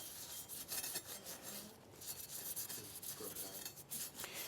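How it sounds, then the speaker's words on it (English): A grey Scotch-Brite pad scrubs metal being prepared for a patina, making continuous close rasping strokes in an uneven back-and-forth rhythm. "For this, I'm going to use my Scotch-Brite."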